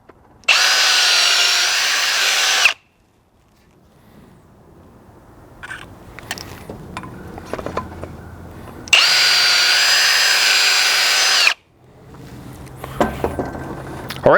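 Power tool whirring on valve guides in a 7.3 IDI diesel cylinder head, running in two steady bursts of a few seconds each, with quiet clinks and handling noises between them.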